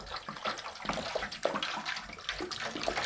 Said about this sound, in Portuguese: Enquanto você coloca a água na sua vasilha, na sua bandeja, na banheira, fique em silêncio e deixa as crianças ouvir o barulho da água